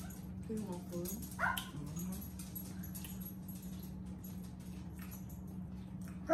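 Dogs whimper, yip and give a few short barks near the start, then settle into a low background; people talk indoors over and around them.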